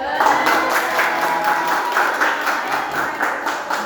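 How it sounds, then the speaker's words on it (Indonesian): Applause and clapping from a classroom audience during a teaching practice session, a steady burst of many hands at moderate loudness lasting a few seconds. "Tepuk tangan dong."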